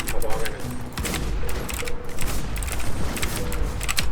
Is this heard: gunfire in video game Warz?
yes